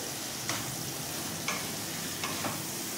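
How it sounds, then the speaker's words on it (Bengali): Fried duck eggs being stirred into sizzling masala in a pan for a curry give a steady frying hiss, with several soft clicks of a utensil against the pan at regular intervals and no voices. "এবারে যে ডিমগুলো ভেজে রেখেছিলাম সেই ডিমগুলো দিয়ে দিলাম, দিয়ে মশলার সাথে একটু মিশিয়ে নেব।"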